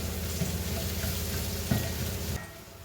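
Onion and tomato fry in hot oil in a pan with curry leaves, a steady close sizzle with faint stirring scrapes that softens near the end of the brief stretch, with no talk.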